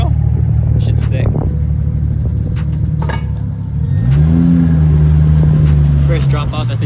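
A Toyota Supra MK4 rolls in and its engine rumbles steadily, rising into a brief rev midway, while people talk casually nearby.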